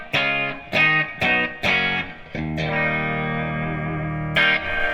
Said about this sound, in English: Which is just clean with some reverb, and that's all AMP1.